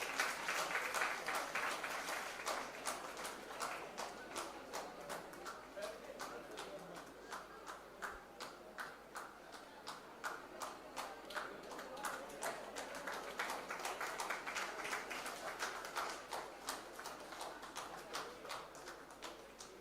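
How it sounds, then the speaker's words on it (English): A crowd at a graduation convocation ceremony applauds steadily for a long stretch, dense clapping with a few louder claps and some chatter mixed underneath. "big round of applause to Darkus Lily."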